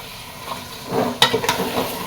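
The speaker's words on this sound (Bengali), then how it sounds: "খাসির মাংস রান্না করছি" Goat meat frying and being stirred in a pan, with a steady sizzle broken by a couple of sharp spatula scrapes and stirs close by, and no talk.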